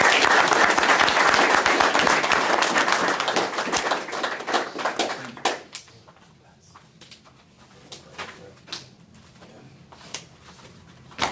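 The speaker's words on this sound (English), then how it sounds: "Give him a round of applause." Press conference crowd at a Tampa Bay hockey event gives a hearty round of applause that holds steady, then dies down to a few scattered claps and faint room noise.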